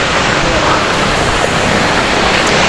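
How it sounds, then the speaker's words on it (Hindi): Bhimbali waterfall on the Kedarnath trek roars as a dense, steady wash of rushing water that fills the whole scene at close range, loud and unbroken. "भीमबली पहुँचा हूँ, ये है वाटरफॉल।"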